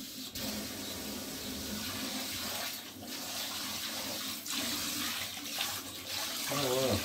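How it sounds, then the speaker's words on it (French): Hot water runs steadily from a kitchen tap, a continuous hissing splash close by with a couple of brief interruptions, ending with gurgling as the flow changes. "Normalement, il y a même de l'eau chaude."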